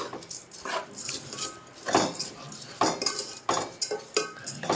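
Rice being stirred in a pot after light turmeric and salt are added for biryani, with a spoon scraping and clinking against the vessel in repeated strokes, close and fairly loud.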